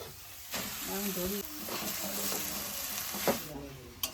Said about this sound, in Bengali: কড়াই গরম হয়ে গেছে এবার খোয়া ক্ষীরটা দিয়ে দেবো